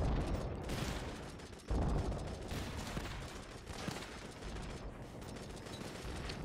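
Turret gunfire in the AFF video game, a dense stretch of rapid automatic shots and impacts, with one heavier burst near the middle, sustained and fairly close.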